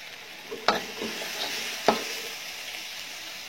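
Sweet potato pieces being stir-fried in a pan give a soft, steady sizzle, with two sharper scrapes of the utensil against the pan standing out over the quiet frying.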